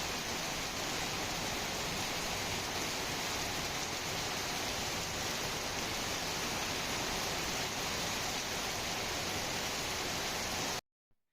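Heavy rain with water pouring off a house rooftop, a dense, steady roaring hiss that holds loud and unchanging for about eleven seconds before cutting off abruptly.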